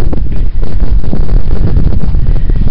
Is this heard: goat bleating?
no